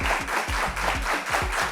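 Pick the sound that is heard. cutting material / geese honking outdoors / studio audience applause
studio audience applause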